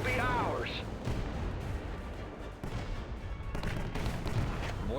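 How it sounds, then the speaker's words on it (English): Cannons fire in the World War Armies video game: a loud opening blast, then a sustained rumbling barrage of booming shots and crashes continuing close and heavy. "Cannons, fire!"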